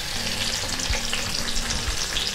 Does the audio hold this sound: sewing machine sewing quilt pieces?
no